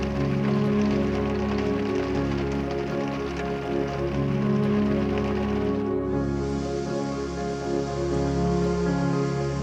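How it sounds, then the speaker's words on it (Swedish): Steady rain falls after days of constant downpour, a dense, even hiss of drops pattering on surfaces that continues without a break, with no talk. "jag tror att det har regnat nu konstant i mer än 3 dygn."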